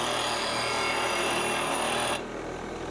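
A roughing out gouge is held against a spinning grinding wheel in a sharpening jig, producing a steady, loud, bright grinding hiss over the hum of the grinder motor. The hiss drops away near the end while the motor keeps running.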